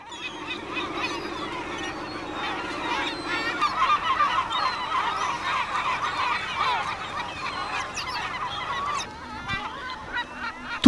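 Gulls call noisily as a dense flock forages over fresh refuse on a rubbish dump, overlapping harsh cries and honking squawks continuing throughout, loud and close.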